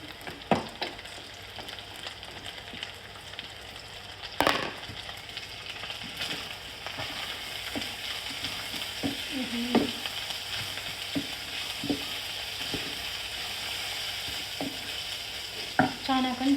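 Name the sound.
onion, capsicum and cabbage frying and stirred for thukpa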